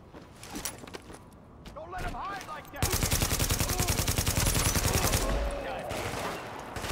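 Heavy gunfire hits the player in Tom Clancy's The Division, a few scattered shots followed by a dense, loud, rapid burst of automatic fire lasting several seconds, with someone talking over it.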